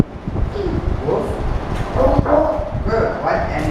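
A child in a kindergarten animal lesson imitates a dog, voicing a barking woof amid classroom speech and background noise.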